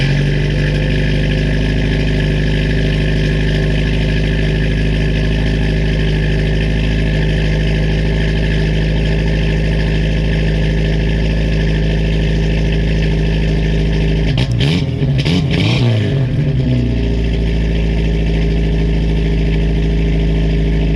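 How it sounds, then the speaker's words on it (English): A Dodge Durango fitted with a Total Flow two-chamber exhaust, similar to a 40 series Flowmaster: a loud, steady, deep idle drone that swells into a brief sharp rev burst near the end, then settles back to idle. "I put on the Total Flow. It's a 2-chamber, like a 40 series Flowmaster, and it is just too loud."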